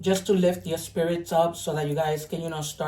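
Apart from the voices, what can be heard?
None of the usual background noises is heard.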